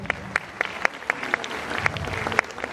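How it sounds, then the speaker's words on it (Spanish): Scattered hand claps from a small audience welcoming a panelist at a Spanish-language teaching seminar: about a dozen sharp, separate claps spread across a few seconds, moderately close, with faint room murmur and no talk. "Fuertes palmas para nuestro panelista."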